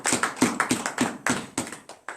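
A church congregation clapping in acclamation at a morning prayer service, with sharp, fairly regular claps in a quick rhythm, loud and close, and no talking over them.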